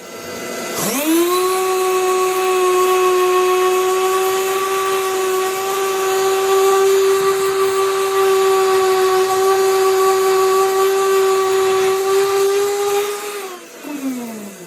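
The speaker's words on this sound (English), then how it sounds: "I'm gonna go ahead and sand it with 60 grit" Dried body filler on a car audio center console is sanded with 60-grit sandpaper: a loud, steady machine whine with a strong tone starts abruptly, holds for about thirteen seconds, then winds down and stops.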